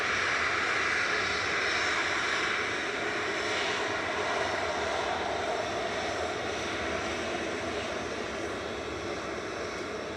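Jet engines of a TUI Boeing 737-800 at Manchester Airport roar steadily and loudly throughout, a broad continuous rumble with no voices.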